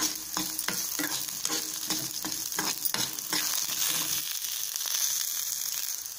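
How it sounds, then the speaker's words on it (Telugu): Ingredients for coconut chutney fry in a pan with a soft continuous sizzle, broken by a series of rhythmic stirring scrapes that stop partway while the frying hiss carries on alone. "1 minute సేపు మనం ఫ్రై చేసుకుందాం."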